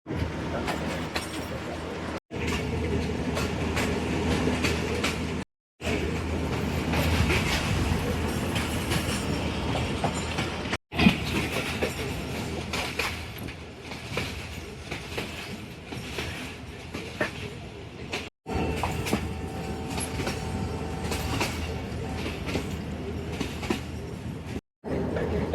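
Sialkot Express passenger train rolling steadily on rails through countryside, a continuous loud rumble with rhythmic wheel clatter and a few brief dropouts.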